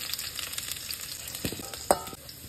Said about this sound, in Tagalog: Ipa-fry ko lang tong patatas